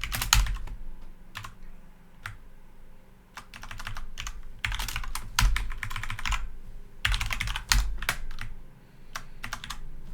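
Fingers type on a computer keyboard in close, irregular bursts of clicking keystrokes with short pauses between runs and no talking.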